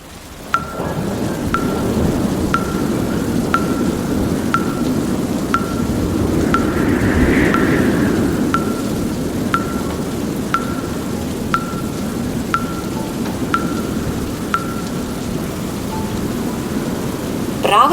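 Steady, dense rain fills the whole stretch with a soft low rumble swelling briefly near the middle, as in a passing thunderstorm, while faint regular ticks repeat about once a second throughout.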